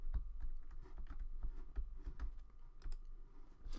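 Someone types on an old computer keyboard at a steady pace, close by, with soft, irregular key clicks and no talking.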